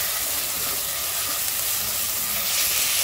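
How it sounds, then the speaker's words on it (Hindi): Ginger and garlic frying in a pan, giving a steady, close hiss and sizzle that carries on evenly throughout with no speech. "अभी अदरक लहसुन डालेंगे, अदरक लहसुन की कच्ची स्मेल जाने तक उसको भूनेंगे।"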